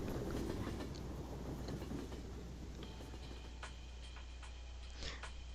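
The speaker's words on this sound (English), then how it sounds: "got the footsteps to work and the train noises to work" Train sounds in a fan-made Persona video game: a quiet, continuous rolling rumble with faint clicking and ticking of wheels on rails, carrying on steadily without any speech.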